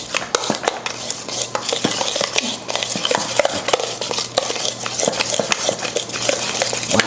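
Egg yolks being mixed for a Caesar salad dressing, a utensil rapidly clinking and scraping against a bowl in a fast, steady rhythm, close and clear with no voices.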